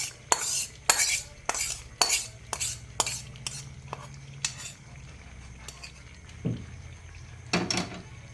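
A spoon scrapes and taps against a pan as chicken curry with tempering is stirred, giving about a dozen sharp, close, rhythmic strokes that slow and thin out toward the end, with no talk.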